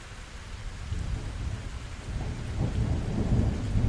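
Steady rain pours down with deep, rolling thunder rumbling underneath, the storm growing slightly louder and heavier toward the end, with no voices.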